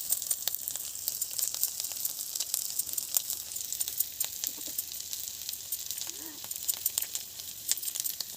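Spices sizzling in hot oil for an Odia fish curry, a steady crackling hiss with scattered pops and spatters throughout, close and fairly loud, with a faint voice briefly in the background.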